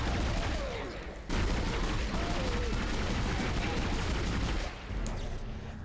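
A favorite gun in the video game Dead Space fires a dense, continuous roar, loud and nearly unbroken for several seconds, with a brief drop before the din resumes.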